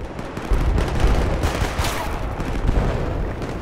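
Heavy sustained gunfire in the PC video game Battlefield: Bad Company 2, dense overlapping shots and booms filling the whole stretch at close, loud level.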